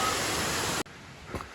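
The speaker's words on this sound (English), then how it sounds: "Here's the waterfall that this trail is named after. This is the Secret Waterfall." Waterfall on a Himalayan trail, a loud steady rush of falling water that cuts off abruptly partway through, leaving quieter ambient noise behind.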